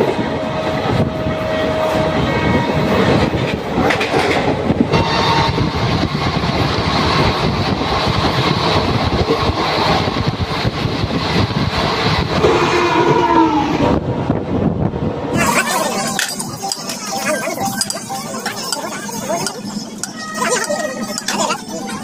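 The 15722 Paharia Express rolls along on the Howrah to Digha line in Bengal, a loud continuous rumble and rattle of wheels and carriages with wind buffeting the microphone, the tone shifting to a thinner clatter near the end.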